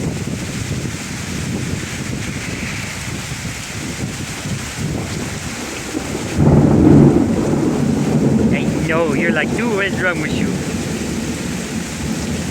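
Heavy rain and rolling thunder during a severe thunderstorm in Pittsburg, Kansas, with wind buffeting the microphone; a loud, close thunder crash hits midway and rumbles on while someone talks over the storm.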